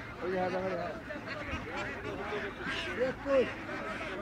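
Ducks quack repeatedly amid a busy crowd at an outdoor village poultry market in Bangladesh, with people talking nearby; calls come in short bursts, some louder and closer.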